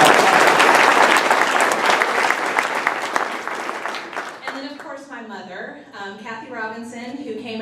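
An audience at a coach's event applauds loudly for about four seconds, a dense wash of clapping that thins as a voice begins speaking over the fading tail.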